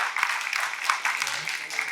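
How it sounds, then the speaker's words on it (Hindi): An audience claps steadily and fairly loudly at a literary award ceremony, a dense continuous patter that fills the moment. "तो जोरदार तालियां इसके लिए।"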